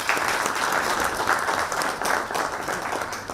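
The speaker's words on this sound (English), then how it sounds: "So a round of applause, please." Dense, steady applause from an audience at the Air Cargo Agents Association of India event as the president presents flowers, a full room clapping continuously and fairly loud throughout with no let-up.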